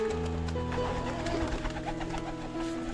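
Pigeons cooing in a flock near a home, soft repeated throaty coos layered over a steady background hum, fairly close and continuous.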